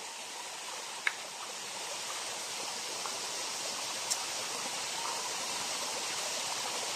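A shallow mountain stream near Baler, running low on water, flows with a steady broadband rush throughout, close and even, with a couple of faint clicks.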